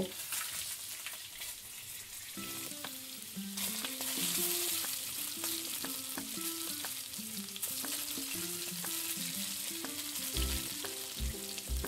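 Potatoes fry with roasted masala for a mutton curry, a continuous close sizzle with spatula stirring, set against quiet background music.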